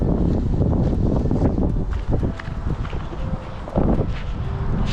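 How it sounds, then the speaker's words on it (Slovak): Strong wind buffets the microphone at a gravel pit lake during spring fishing, a steady loud roar with gusts that dip briefly near two seconds and surge again near four. "je veľký vietor, strašne šponuje ten silon"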